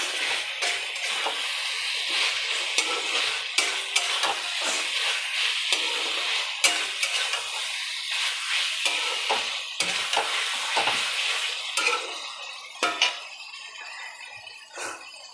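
Paneer pieces fried in a pan and stirred, with a continuous soft sizzle broken by frequent scraping and clinking strokes of the spatula against the pan, close and fairly quiet, with no voices.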